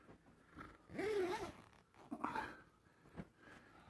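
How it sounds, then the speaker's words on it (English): Zipping up a Whitmor Deluxe cloth utility closet, two quick zipper pulls a second apart, fairly close and quiet, followed by a few softer rustles. "Zip her up."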